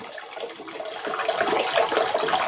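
Hot water pours out of jars of peach compote in a steady, rushing splash that grows slightly louder, heard up close with no talking.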